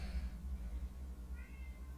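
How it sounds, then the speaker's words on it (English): A house cat meows repeatedly and fairly close, a run of short voiced cries over about two seconds in an indoor room, with no talking over it. "Cat, hush!"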